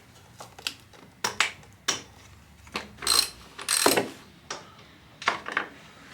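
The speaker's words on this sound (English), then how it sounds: "So next thing we've got to do is get the spark plug out." A ratchet works a spark plug loose on a 50cc scooter, its close, crisp clicking coming in short uneven bursts of a few strokes each, with brief pauses between.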